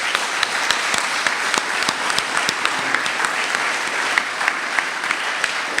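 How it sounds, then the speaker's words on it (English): Audience at a branch meeting breaks into steady, loud applause, many hands clapping in a dense continuous wash with a few sharper individual claps standing out, sustained for several seconds without speech. "deserves a round of applause"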